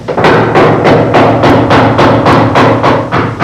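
Work noise in a small car repair shop on Moscow's outskirts in the Soviet Union: a steady run of loud, evenly spaced heavy thuds, about three per second, with no talk over them.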